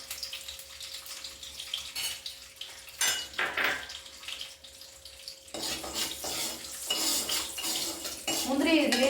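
Broken cashews roast in ghee in a pan, with frequent metal clinks and scraping of a spoon against the pan over a soft sizzle, close and moderately loud.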